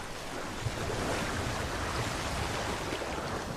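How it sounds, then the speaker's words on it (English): Water crashing and splashing as African buffalo retreat into it, a continuous broad rushing wash, loud and sustained with no clear breaks. "The crash of water as the buffalo retreat takes on a new significance to her."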